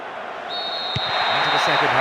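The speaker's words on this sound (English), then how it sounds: "The referee blows his whistle to end the first half" A referee's whistle in the PES 2008 football video game on PS2 blows one long steady blast to end the first half, over continuous crowd noise while a commentator talks.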